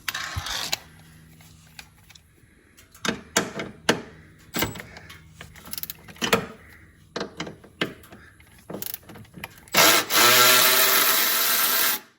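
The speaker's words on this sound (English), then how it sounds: "I'm gonna get this plate off for where the oil filter is, and this is a T40 Torx bit" Scrapes, clicks and small clattering as a T40 Torx bit backs out the bolts of the oil filter plate on a Polaris Sportsman 850 ATV, irregular taps and rubs close by, finishing with a louder sustained rasping burst.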